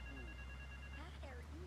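A telephone rings faintly in the video game Grand Theft Auto 3, a short electronic trill under a voice talking.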